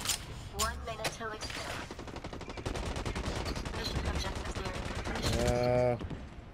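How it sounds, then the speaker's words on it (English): Rapid automatic gunfire in the shooter game Blacklight: Retribution, a dense continuous fusillade of loud bursts with voices speaking over it. "I'm taking fire."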